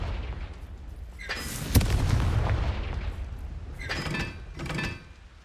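Bombarda and Confringo spell blasts in Hogwarts Legacy, heard as a heavy booming impact followed by rumbling debris and two later crackling bursts, loud and close with no voices.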